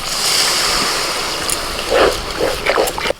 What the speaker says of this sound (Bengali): এবার আমি দিয়ে দিচ্ছি হালকা গরম জল